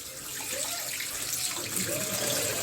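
Cold water pours steadily over boiled spaghetti, a continuous close, full splashing rush like a running tap, lasting throughout without pause.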